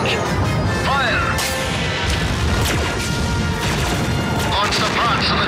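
The LEGO Star Wars Republic frigate fires on Geonosian starfighters in a dense barrage of loud blaster shots, crashes and booms over a sustained roar, with zapping laser sweeps and voices in the mix.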